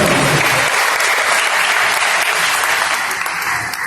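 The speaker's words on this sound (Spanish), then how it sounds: "un fuerte aplauso, maestro" An audience gives a chef sustained, loud applause at a gathering on ancestral cooking, a dense wash of clapping that tapers slightly toward the end.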